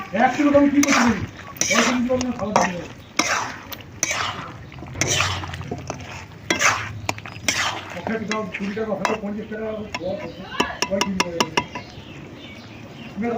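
Meat curry being stirred in a pot with a spoon, intermittent scraping and clinking of utensil against metal, heard under frequent talking throughout.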